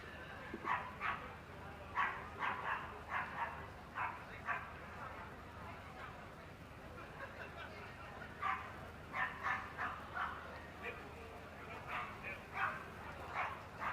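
Small toy-breed dogs in the ring at a championship dog show, yapping in repeated short bursts of high barks and yips across the whole stretch, moderately close, over a hall murmur.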